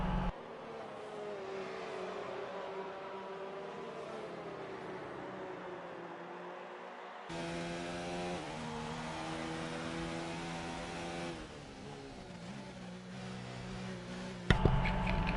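Formula 1 race car engines in a PS4 racing game at the Austrian Grand Prix, a sustained high whine that shifts pitch as gears change, with a sharper engine tone taking over partway and a brief louder burst at the end.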